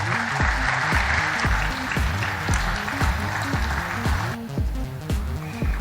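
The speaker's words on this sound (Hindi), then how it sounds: "जोरदार तालियां आप सबकी तरफ से होती रहनी चाहिए" Audience applause at an official ceremony in Puri attended by the President of India, a steady wash of clapping sustained throughout alongside rhythmic music.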